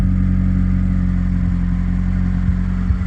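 A Toyota Matrix engine idles on its newly fitted exhaust, a loud, steady low hum with a couple of faint clunks near the end and no voices.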